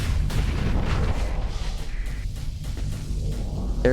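Spaceship weapons fire in the space combat game Starsector, a steady barrage of booming, thudding shots rolling continuously at a moderate level for several seconds.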